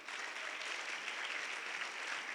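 Dense, steady applause from a church congregation cheering for Jesus, loud and sustained throughout with no talk over it.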